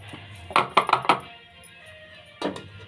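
Metal idli plates filled with homemade rava idli batter are lowered into an idli steamer pot, giving a quick run of four clinking knocks, then a pause and a final pair of clanks, close and fairly soft.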